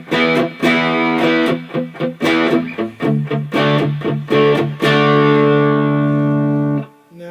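Electric guitar played through an MXR Custom Badass '78 distortion pedal set around noon, a series of crunchy, saturated chords struck in rhythm, then a final chord left ringing and fading, loud and close with no talk.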